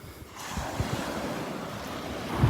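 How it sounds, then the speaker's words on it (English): Steady offshore wind rushes across a Delnor-Wiggins beach, buffeting the microphone with low rumbling gusts over a soft wash of distant surf. "the wind is blowing offshore"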